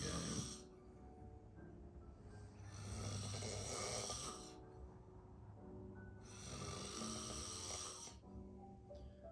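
A person snores in long, slow cycles, each breath a drawn-out rasping rumble lasting a couple of seconds, heard close and fairly clear over faint background noise.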